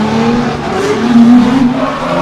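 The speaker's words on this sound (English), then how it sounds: "So Andreas Pesagov now in a Nissan R32, another R35 engine car." Nissan R32 drift car fitted with an R35 engine, running hard on a Sochi race track during drift qualifying, a steady loud engine roar with tire squeal rising in the middle.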